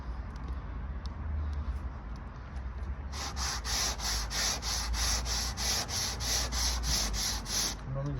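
A sanding block rubbed back and forth by hand along the edge of a VW Transporter rear door, quiet room tone at first, then a loud, close, rhythmic rasp of about a dozen strokes.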